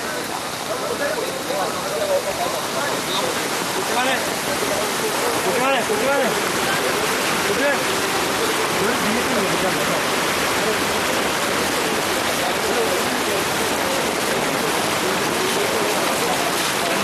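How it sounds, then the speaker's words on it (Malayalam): Floodwater rushes across a road into a river during heavy rain, a steady, broad roar of flowing water and rain that holds constant and fairly loud throughout. "ക്രമേണ റോഡിലൂടെ വെള്ളം മറുഭാഗത്തുള്ള പുഴയിലേക്ക് ഇറങ്ങി തുടങ്ങിയിരുന്നു."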